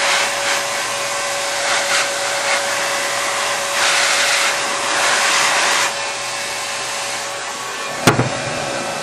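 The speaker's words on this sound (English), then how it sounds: "put some more heat on the rest of the tubing and get the tubing to start shrinking down on the bundle" A heat gun blows a steady, close airy roar while shrinking heat-shrink tubing onto a wire bundle during water blocking. The roar swells louder for a few seconds midway, and a sharp click sounds near the end.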